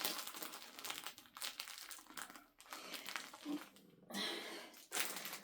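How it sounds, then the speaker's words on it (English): Plastic packaging around a skein of dark blue yarn crinkles and crackles close by in irregular bursts, with brief quiet gaps between handlings. "And I know some of you would complain about the crinkling of the plastic"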